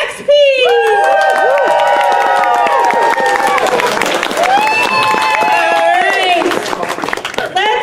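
A crowd at an opening ceremony cheers and whoops as performers leave the stage, loud and sustained, with shouting voices and bright tonal sounds layered over the noise.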